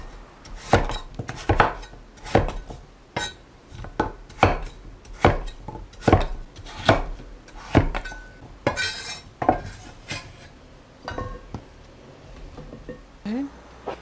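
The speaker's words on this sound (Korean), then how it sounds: "먹기 좋은 크기로 다시 한번 잘라줍니다." Knife chopping radish into bite-size pieces on a cutting board, a steady run of sharp, close thuds and clacks that slow and thin out near the end, with no talk.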